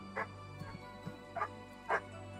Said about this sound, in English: Man, the dogs are quite loud today.